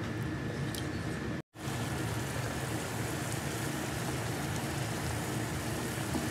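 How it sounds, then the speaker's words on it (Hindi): Sugar syrup for a semolina rasbhari sweet boils hard over a high flame, making a dense, steady, rain-like bubbling hiss that runs continuously with a brief break near the start. "फ्रेंड्स आपको ऐसे तेज़ आँच में इसका शीरा बनाना है, देखिए ऐसे खोल रहा है"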